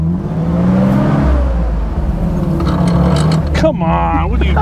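A 1948 Willys flat fender jeep, built Rubicon-ready, grinds its gears close by, with a loud rough engine drone that rises into a whining, strained gear noise near the end.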